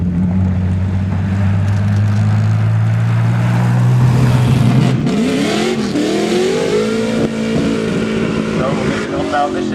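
An Opel Ascona A rally car engine idles with a steady low drone, then revs up sharply in rising and falling sweeps, loud and close by.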